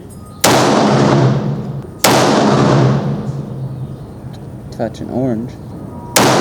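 Rifle shots from 65 grain Sierra GameKing loads at an outdoor range: three sharp, loud cracks, each with a trailing echo. A brief voice is heard between them.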